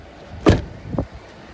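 The power sliding rear window of a 2013 Ford F-150 FX4 pickup gives a short motorized whir followed by a second, softer whir or thunk, close up with quiet surroundings.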